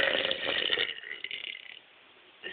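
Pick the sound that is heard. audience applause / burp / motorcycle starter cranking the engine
burp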